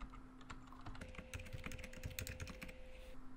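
Fingers tap out a password on a computer keyboard in a quick run of crisp, close key clicks over a faint steady hum.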